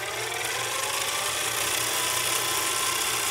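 A metal lathe turns square stock held in a 3-jaw chuck, giving a steady, close, gritty cutting and rubbing noise that holds even throughout.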